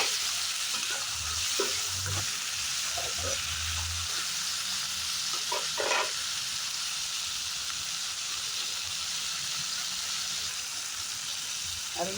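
Tomatoes and turkey berries sauté in hot oil for a Tamil kuzhambu, giving a steady, dense sizzle that holds throughout, with a few faint stirring scrapes and no talking.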